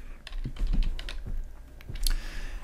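Code for a web page drop-down menu is typed on a computer keyboard: quick, irregular clacking keystrokes close by, with no talking.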